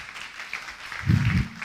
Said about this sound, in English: So let's give a huge round of applause to Robin as he comes up on stage.